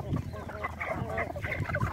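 Several backyard chickens cluck and chatter close by in a busy, uneven stream of short calls, with possible faint talk in the background.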